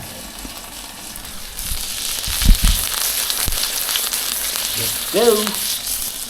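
Brinjal dropped into a hot pan for roasting for baigan bharta in a village kitchen, a steady sizzling hiss with a few bumps and thuds, close up, and a short spoken phrase over it.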